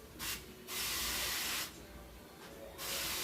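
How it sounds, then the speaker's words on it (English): Three bursts of cooking oil spray hiss from an aerosol can, each lasting about a second, separated by short pauses; close and fairly loud with no voices. "So I'm going to spray all around it good"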